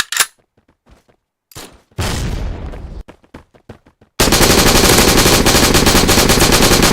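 Grenade blast and rapid gunfire in a Valorant match: sharp scattered shots first, a loud crash of burst noise, more single shots, then a dense, sustained roar of automatic fire and explosions to the end.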